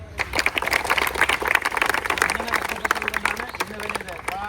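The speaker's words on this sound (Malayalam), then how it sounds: "അപ്പൊ കൈയടിച്ചേ" Audience clapping at a celebration for SSC GD exam winners, dense rapid hand claps forming steady applause, close and lively, with a voice speaking over it.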